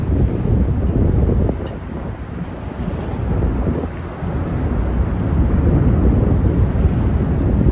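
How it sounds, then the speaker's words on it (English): Strong wind buffets the microphone in a continuous low roar that surges and dips, loud throughout with no voices, by rough surf in Manhattan, New York City. "It's a windy day, Audrey."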